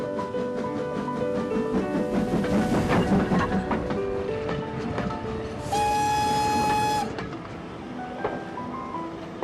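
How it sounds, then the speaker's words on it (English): A Great Western tank engine steam train on a branch line, heard as a loud, dense rumble and chuff, then a sustained whistle or horn blast near the middle before the train sound settles back. "A lovely little Great Western tank engine puffing white clouds of steam."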